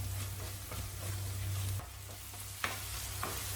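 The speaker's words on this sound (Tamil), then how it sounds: "இஞ்சி பூண்டு சேர்த்து 1 நிமிஷம் வதக்கலாம், பச்சை வாசனை போக." Ginger garlic paste sautés in a hot pan for a chicken biryani masala, a steady soft sizzle with a low hum underneath and a couple of sharp scrapes of a stirring spoon against the pan.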